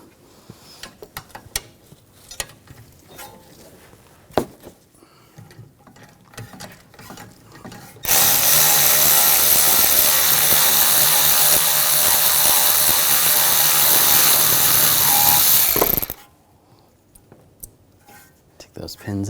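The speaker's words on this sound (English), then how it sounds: "using a 7mm hex socket, take the caliper pin bolts out" An impact or ratchet power tool with a 7mm hex socket spins out the rear brake caliper pin bolts on a 2007-2013 BMW 328i, a steady loud mechanical whir lasting several seconds between quieter clicks and handling noises.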